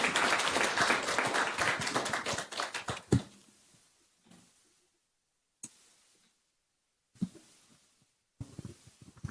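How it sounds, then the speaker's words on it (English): At a gender equality panel, the audience applauds the speakers with brisk, dense clapping for about three seconds, then it dies into a few scattered claps and taps with near-silent gaps between them. "Can we please have a big round of applause for all of our speakers?"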